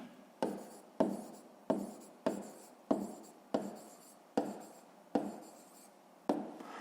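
A pen writes on paper at close range in a quiet room: about nine short, distinct scratching strokes in a steady rhythm, each fading quickly, with no talking.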